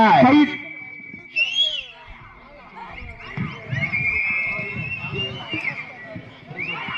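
Crowd at a bull-taming event in Tamil Nadu blowing sharp, piercing whistles over one another, with loud shouting and crowd noise throughout.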